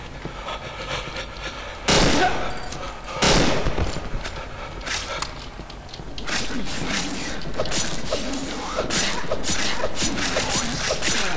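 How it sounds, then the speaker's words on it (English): Gunfire in the horror video game Cry of Fear: two loud sharp shots close together, then a rapid run of cracks and bursts with rattling action sounds between them, all close and alone without talking. "Oh my god, look at those perfect shots by me."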